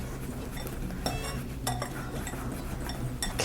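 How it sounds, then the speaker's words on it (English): A whisk stirs flour, baking powder and salt in a bowl, making close, steady scraping with repeated light metallic clinks against the sides and no voices. "using a whisk, I'm just going to mix that all in."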